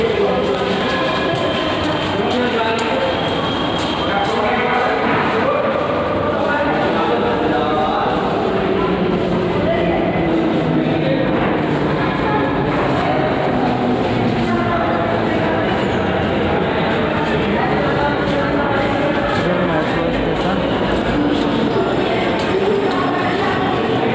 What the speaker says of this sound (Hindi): ये है मेट्रो स्टेशन भाई, देखो अंदर का लुक।